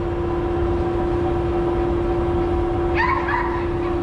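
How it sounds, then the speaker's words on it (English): A poodle at a pet hotel barks in a short burst of excited yips near the end, over a loud steady engine-like hum from a delivery vehicle. "got an angry dog, angry poodle, or excited poodle"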